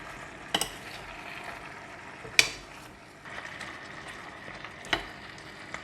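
A few sharp scraping knocks of a utensil stirring ingredients in a clay pot, spaced apart, over a quiet background with no talking.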